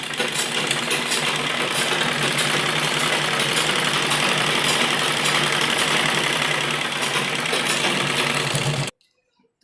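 Sewing machine stitching a seam on a heavy printed-fabric kurti, a loud, fast continuous mechanical whir that runs steadily and then stops abruptly near the end.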